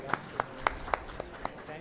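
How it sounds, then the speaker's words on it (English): A few people clapping sparsely for a panelist at a conference, about seven separate claps spaced evenly under a low background murmur. "May I invite Mr. Vineet Mittal, Co-Chairman CI Renewable Energy Council and Chairman Avada Group,"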